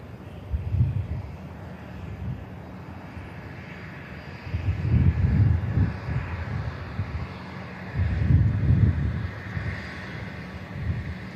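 A Boeing 747 departs Manchester Airport, its engine roar rising and falling as a broad low rumble in distant surges, mixed with wind buffeting the microphone.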